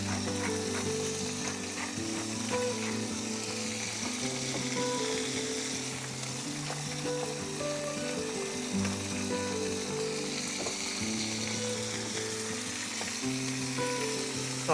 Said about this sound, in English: let them cook. They'll naturally unstick from the pan.